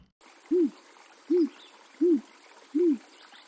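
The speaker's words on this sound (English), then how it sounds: "This owl's going to give me away." Owl in the adventure game Anna's Quest giving four evenly spaced, low hoots, clear and close against a quiet night background.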